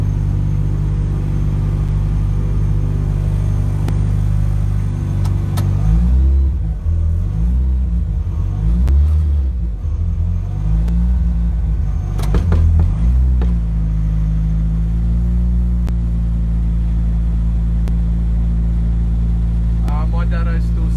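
A Datsun wagon racing with an SR engine against an FJ-engined rival, a loud steady engine rumble filling the cabin with revs rising and falling midway, heard from inside the car.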